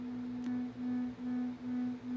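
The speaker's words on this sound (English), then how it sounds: "the fourth one is actually sine waves that are just detuned" Steady synthesizer drone built from detuned sine waves on an ambient machine, a sustained low tone with slow phase beating swelling and dipping in a regular pulse, heard alone.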